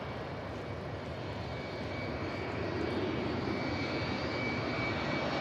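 An Airbus A380 heavy jet airliner roars steadily as it passes near an airport, its broad engine noise holding constant and rising slightly over a few seconds, with no voices.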